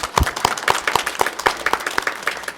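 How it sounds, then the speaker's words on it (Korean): A church congregation claps together in a steady, rhythmic applause, a fairly close, even beat of many hands sustained throughout the short stretch. "우리 다 같이 하나님께 영광의 박수 올려드리겠습니다."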